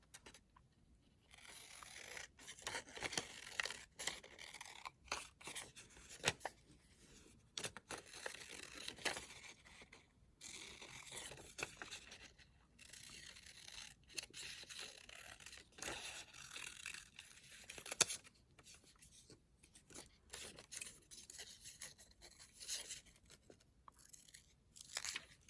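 Paper being cut with scissors to snip out printed tower shapes along dotted lines, giving a close, steady run of soft crisp snips and rustles with short pauses between cuts.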